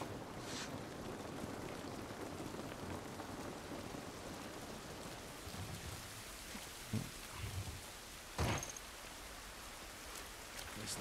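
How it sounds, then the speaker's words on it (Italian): Steady rain falls throughout in The Last of Us Part I, a dense hiss with a few louder splashes and thumps near the end and no one speaking. "Pioggia non va bene."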